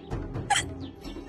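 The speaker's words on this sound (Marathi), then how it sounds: "उचकी" A man gives a single short, sharp hiccup in a quiet indoor scene from a Marathi TV serial.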